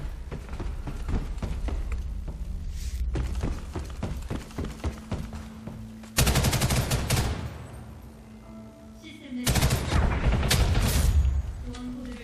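Assault rifle gunfire in the online shooter Ghost in the Shell First Assault, with close rapid bursts and single shots, then two long loud sustained volleys separated by a quieter gap.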